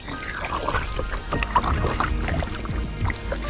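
Kayak paddle strokes splash and swirl through shallow water off a shell-covered beach, close and continuous, with wind buffeting the microphone.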